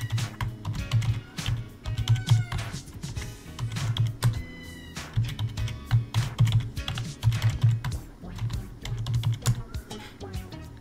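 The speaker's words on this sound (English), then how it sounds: "you're going to type in PASSWD" A password is typed on a computer keyboard during a SteamOS install on a Legion Go, with rapid close key clicks coming in bursts and short pauses throughout.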